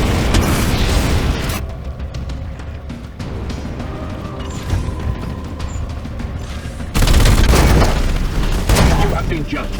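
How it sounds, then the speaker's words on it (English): Loud bursts of weapons fire and booming explosions in a Warhammer 40K Chaos Gate battle, with dense blasts at the start and a heavy renewed barrage near the end, and a quieter stretch of rumble between. "Firing now!"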